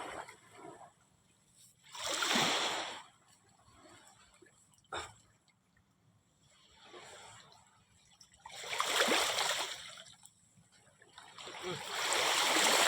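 High river water where crabs are caught rushes and splashes in repeated swells, loud bursts alternating with quieter stretches of steady flow, heard close with no voices over it.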